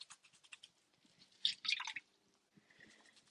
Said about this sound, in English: listen to all that water